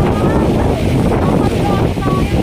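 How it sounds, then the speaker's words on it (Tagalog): Strong wind roaring and buffeting a nearby microphone in Manila as heavy rain suddenly pours, a dense continuous rumble with gusty swells throughout. "Ay, grabe, lakas ng hangin."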